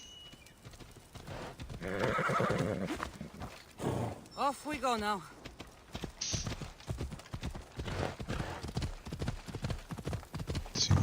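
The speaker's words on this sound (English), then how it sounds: "Alright, come on, horse." Horse hooves clip-clopping at a gallop with a whinny midway, from the video game Assassin's Creed Odyssey, heard beneath someone talking throughout.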